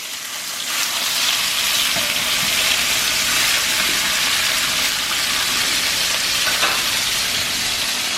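Crispy-skin salmon fillet sizzling hard in a frying pan right after being flipped, a loud, steady close hiss and crackle that rises in the first second and holds for several seconds with no speech.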